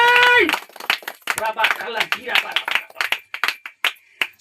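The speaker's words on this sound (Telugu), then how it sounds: "చప్పట్లు కొట్టండి" During a Christmas worship service, a congregation claps in loose repeated bursts beneath a preacher's loud, excited voice, the sharp claps scattered and overlapping with the talking.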